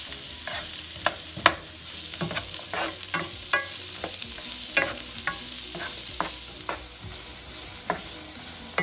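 Onion and garlic fry in a pan under a steady sizzle, punctuated by a dozen or so sharp spoon scrapes and taps at an irregular rhythm, close and fairly loud.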